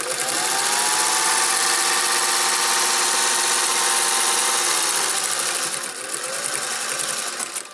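Sewing machine stitching an apron, a loud steady whirring motor with fast rhythmic needle clatter running nearly unbroken, then slowing and stuttering briefly near the end.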